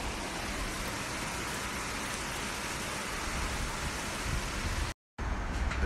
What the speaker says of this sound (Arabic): مطر عنيف جدا جدا جدا